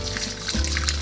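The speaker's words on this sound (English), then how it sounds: "I'm just gonna pour it through gently" Curdled milk poured gently through cheesecloth set inside a strainer, a brief close trickling, splashing flow of liquid lasting about a second.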